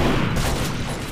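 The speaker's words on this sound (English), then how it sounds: "I get blown up by a pipe bomb" A pipe bomb explodes in a Duke Nukem Forever multiplayer match, one loud, dense blast with rumbling noise that fills the whole moment.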